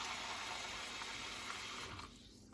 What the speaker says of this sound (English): So now I'm going to take it over and put some water in.